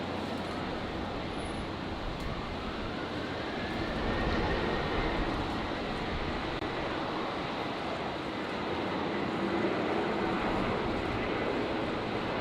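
A Velocity aircraft rolls for takeoff on runway 19 left at Brisbane Airport on a windy day, a broad distant engine roar that swells and holds steady.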